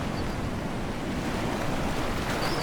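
Wind and sea waves while sailing in the video game Following Seas, a steady, full rush of surf and blowing wind with no break.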